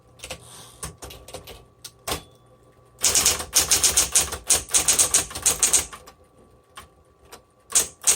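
A 1960s Smith Corona Coronet typewriter clacks with a few scattered keystrokes, then a fast dense burst of typing for about three seconds, followed by sparse sharp strikes near and loud.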